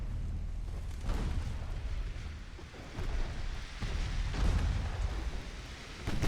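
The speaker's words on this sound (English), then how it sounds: "Did you just torpedo me?" A torpedo strikes a US battleship in the naval game World of Warships, producing a heavy, sustained low rumble with several swelling booming bursts, loud and unbroken, with no voices.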